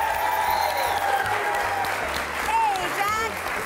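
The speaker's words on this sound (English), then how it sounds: "Let's give him a round of applause." Audience applause welcoming a guest on a live morning TV segment, steady clapping from a crowd that continues throughout while people talk and cheer over it.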